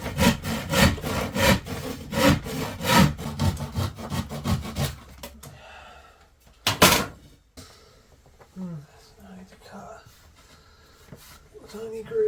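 A hand saw cuts thin wood trim inside a narrowboat, giving a steady, close back-and-forth rasp of strokes that stops halfway, followed by a knock and quieter handling while people talk.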